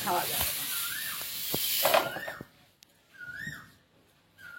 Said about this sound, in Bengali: কড়াই একটু তেল ছিল তাইতে সজনের ডাঁটাগুলোও ভেজে নিচ্ছি।